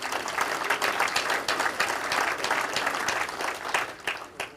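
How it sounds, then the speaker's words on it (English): An audience at a lake association's annual meeting applauds for a sponsoring foundation: steady, dense clapping from a room full of people, moderately loud and continuous for several seconds before tapering slightly at the end. "Let's give them a round of applause."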